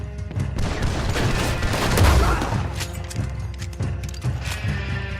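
Gunfire in Red Dead Redemption 2 during a chaotic fight, with a volley of sharp shots and mechanical clicks building to a heavier burst midway before scattered reports follow.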